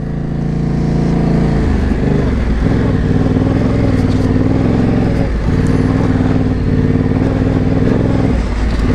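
A Yamaha Tenere 700 and an XC800 ride through a gravel pit, their engines droning loud and close. The steady rumble rises and falls with throttle changes, and mechanical rattles and clatter run through it.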